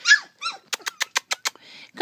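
Puppies beside a puppy swimming pool outdoors give a few high squeaky whimpers followed by a quick run of short, sharp yips, close and alone without talk.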